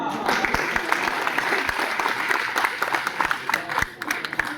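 An audience bursts into loud, sustained applause after a Dogri poem recital, many hands clapping in a dense, slightly uneven patter that fades near the end.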